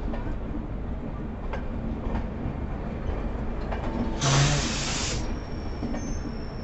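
An LHB express train on rails near Visakhapatnam, with a steady rumble of wheels and rhythmic clatter over joints, a sharp high squeal of wheels partway through, and a constant near roar.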